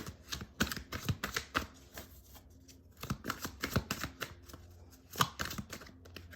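Tarot cards being shuffled for a reading, a series of crisp riffling bursts in clustered rhythm, close and fairly quiet with no talking.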